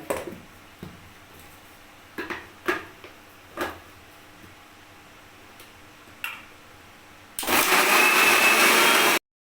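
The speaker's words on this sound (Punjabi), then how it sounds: "ਤੇ ਹੁਣ ਇਹਨੂੰ ਆਪਾਂ ਕਰ ਲਾਂਗੇ ਗ੍ਰਾਈਂਡ" Electric grinder whirring loudly through a spice mix of fenugreek, turmeric, chili and salt for about two seconds, then cutting off. Several sharp clicks and taps of handling come first.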